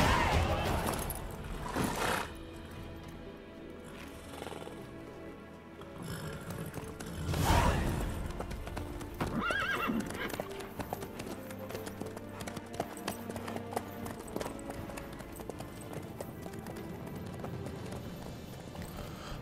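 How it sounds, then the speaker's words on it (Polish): Horse hooves clip-clop steadily in The Witcher 3 while riding, a continuous galloping rhythm close up, with game music and ambience underneath and a few louder swells. "Mój koń jest zajebiście szybki."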